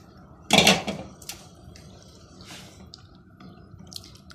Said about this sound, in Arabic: بضيف الرز اهو.